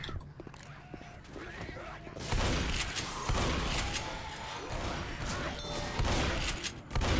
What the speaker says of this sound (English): So many shotgun blasts that don't actually kill in the first shot